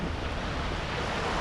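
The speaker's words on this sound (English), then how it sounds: "you get wind straight off" Wind blows hard off the water on a cold beach, a steady, dense roar of rushing air buffeting the microphone, with no voices.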